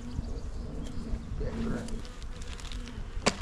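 Bees buzz steadily around an open beehive, a close, continuous low drone with occasional single insects passing nearer.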